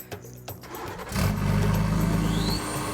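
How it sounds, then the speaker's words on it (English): A Dakar rally car engine cranks briefly and catches, then roars into a loud, steady rumbling idle that stays strong to the end, at a quarry test stage. "OK, Nani, let's fire her up."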